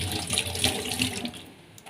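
Water runs from a tap into a container at home, a steady close splashing rush that eases off toward the end, with no talking.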